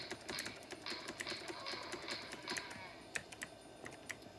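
Computer arrow keys tapped in quick, irregular bursts during play of a game on a mid-1990s Monorail all-in-one PC; close, crisp clicks with short pauses, no talking.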